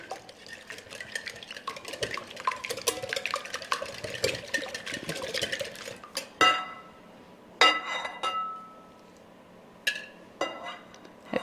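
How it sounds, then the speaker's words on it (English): A spoon stirs a tuna cake mixture of tuna, pork rinds and salt in a bowl, making soft scraping and clinking against the dish, steady at first and then breaking into a few sharper knocks with short pauses. "let me just kind of stir all that around"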